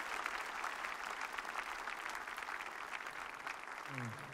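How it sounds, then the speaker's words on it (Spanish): A congregation at a church mass prayer service claps hands together in a dense, steady wave of applause, moderately loud and continuous throughout, with a faint voice rising near the end. "Demos un aplauso al Señor."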